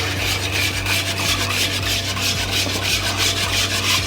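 A whisk beats semolina custard in a pot, making a continuous close scraping and swishing with fast rhythmic strokes against the metal, steady and fairly loud with no talking.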